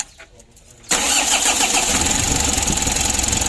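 A Mitsubishi L300 diesel engine with a hard-starting, power-loss fault cranks and fires up abruptly, then settles into a loud, steady, rhythmic clattering idle close by.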